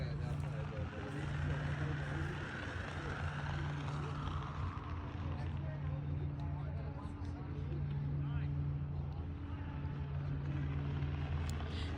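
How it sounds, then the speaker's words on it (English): A propeller plane drones overhead with a steady low hum and a slowly shifting pitch, loud and continuous beneath scattered conversation at an outdoor gathering in Arizona. "There goes one of the planes that's up right over here too."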